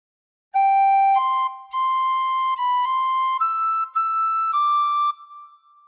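A tin whistle plays the opening phrase of Hark the Herald Angels Sing alone, with clear sustained notes stepping through a short melody and ending on a fading held tone.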